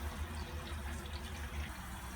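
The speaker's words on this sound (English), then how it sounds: "we're ready to fill the container with tap water or filtered water if you prefer." Tap water gushes steadily into a 3-gallon water storage container, a close, continuous rushing fill with a low hollow resonance and no talking.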